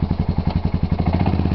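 Old Timber Wolf engine firing up after sitting through the winter, a loud, close, rapid chugging rhythm of regular throbbing pulses.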